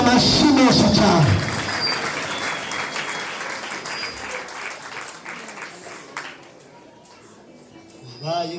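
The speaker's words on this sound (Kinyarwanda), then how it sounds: "nimumukomere amashyi menshi cyane" A church congregation at an apostle's gathering bursts into loud applause, first under a speaking voice, then continuing as a thinner, fading round of clapping and scattered cheers before rising briefly again at the end.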